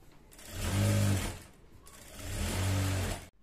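A sewing machine stitches the leg seam of a salwar in two steady whirring runs, close and fairly loud, with a short pause between them and a sharp stop at the end.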